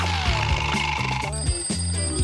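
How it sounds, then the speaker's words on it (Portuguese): An electronic alarm rings with a steady repeating beep pattern over an upbeat musical backing, signalling a vitamin-time reminder in a children's skit. "Você sabe o que significa esse alarme. Hora da vitamina."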